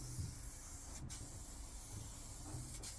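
Spray gun laying a second coat of paint on a panel of a Corsa SXi Limited Edition, a continuous quiet hiss held evenly throughout, broken by two short sharp bursts of airflow.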